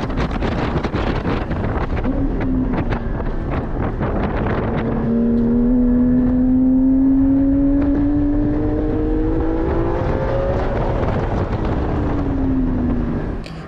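A Porsche GT4 runs fast through linked track bends, its engine tone climbing steadily and then easing off, under heavy wind buffeting on the microphone. The engine sounds loud and close, with no voices.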